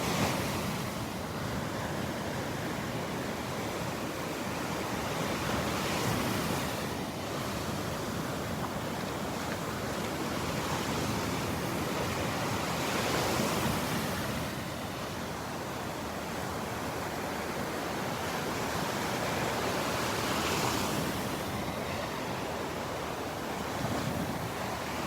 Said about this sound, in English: The waves are playing our song today.